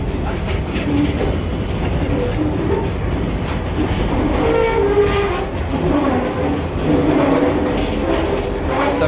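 A metro train in Istanbul rumbles steadily with a low droning roar and faint rattling, sustained throughout at close range.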